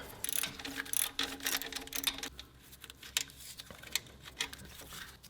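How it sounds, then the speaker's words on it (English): A 10mm socket ratchet loosens the nut on a Toyota Rav4 alternator, giving quick clicking pawl bursts in short runs, close and fairly quiet, with no talk. "A 10mm socket removes the nut."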